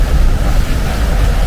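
Loud, steady wind of about 27 knots roars and buffets the microphone, a continuous rushing noise with no pauses, at an anchorage off Los Gigantes, Tenerife.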